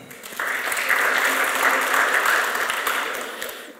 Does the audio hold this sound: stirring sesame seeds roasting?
no